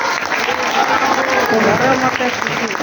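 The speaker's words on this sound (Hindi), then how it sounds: "By clapping." A church congregation at a Christmas gathering claps together in loud, dense applause, with voices calling out over the clapping throughout.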